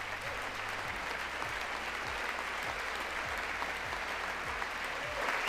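Audience applause fills the chamber during Trump's address to Congress, a steady dense clapping heard through a live-stream feed with a low repeating tone underneath.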